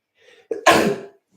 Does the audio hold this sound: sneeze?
yes